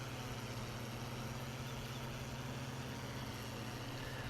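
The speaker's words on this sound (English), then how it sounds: "We didn't even have our baler on, so we'll turn it on now." Steady tractor engine idling in a farming video game with the baler switched on, a continuous low drone with a faint whine, even and unbroken throughout without speech.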